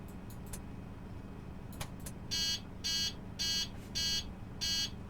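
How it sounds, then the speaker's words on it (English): Five evenly spaced electronic beeps from a MAN NG272 bus in the OMSI 2 bus simulator game repeat in a steady rhythm over a low engine rumble, each a short, bright, clear tone. "So I guess you can hear something beeping."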